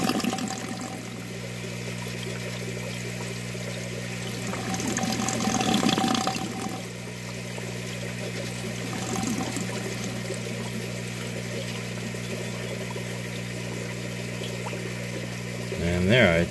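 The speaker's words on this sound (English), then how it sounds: "broke the siphon right there. Now it's refilling." Water runs steadily through a U-siphon, a continuous pouring and trickling flow with a low pump-like hum beneath, until the siphon breaks near the end and the sound shifts as it begins refilling; no one speaks.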